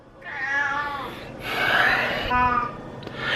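A house cat meows loudly and close several times, long drawn-out wailing calls separated by short breaths, in a quiet room.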